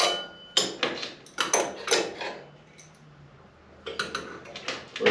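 A hammer taps a go-kart brake drum to knock it off the axle: a handful of sharp, close metallic knocks in an irregular rhythm, a pause, then another short cluster of hits.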